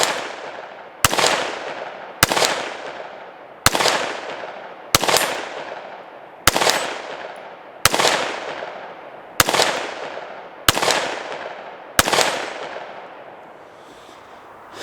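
A Smith & Wesson M&P 5.7 pistol with magazine problems fires at an outdoor range, ten loud, sharp single shots spaced about one to one and a half seconds apart, each ringing out before the next.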